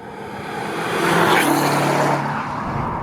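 Subaru on all-season tires driving along back roads, a steady broadband road and engine rumble with tire noise that swells in the middle and then eases slightly, with no voices.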